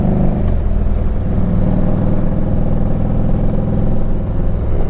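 Harley-Davidson touring motorcycle being ridden, its engine a loud, steady low rumble with a pulsing beat, mixed with heavy wind and road noise at cruising speed.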